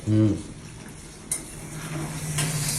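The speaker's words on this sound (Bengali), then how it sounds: "কি রান্না করছো চিলি চিকেন" Chilli chicken cooks in a pan by torchlight, a quiet steady sizzle with a soft scrape of stirring and a couple of faint clinks.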